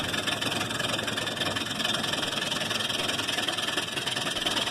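A wood lathe roughs out a large spalted ash bowl blank with a homemade carbide chisel, a loud, steady, continuous grinding and scraping hum with no pauses.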